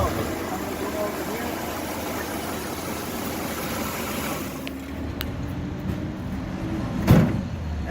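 A vehicle engine idles steadily, a broad low rumble filling the scene, then quiets as it is shut off, followed by a soft thump and faint click near the end.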